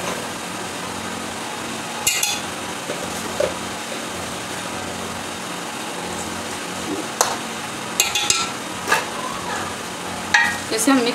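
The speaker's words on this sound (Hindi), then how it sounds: "इसे हम मिक्स कर देंगे अच्छे से" Ginger-garlic paste and salt get stirred in a pan over a low sizzle, with scattered sharp clinks and scrapes of the spoon against metal coming at irregular intervals.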